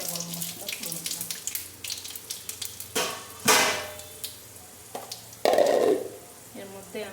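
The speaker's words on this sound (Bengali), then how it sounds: "এর মধ্যে আমি একে একে গোটা জিরে, তেজপাতা, শুকনো লঙ্কা আর একটু গোটা গরম মশলা ফোড়ন দিলাম" Whole cumin, bay leaf, dry chillies and whole garam masala hit hot oil in a pan, bursting into loud crackling sizzles in separate surges with quieter gaps between, close by.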